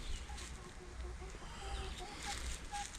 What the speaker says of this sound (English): Three Rhode Island red hens.